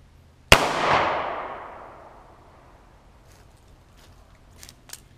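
A Smith & Wesson .38 Special revolver fires once into a computer monitor in a backyard, a sharp loud crack followed by a short ringing decay, then a few faint clicks and taps afterward.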